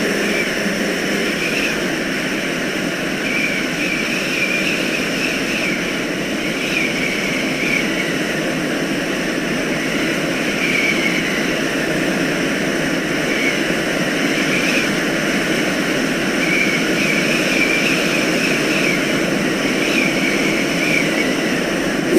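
In Microsoft Flight Simulator X, an aircraft engine drones steadily in flight during a first take-off mission. It holds an even, constant roar for the whole stretch with no talk.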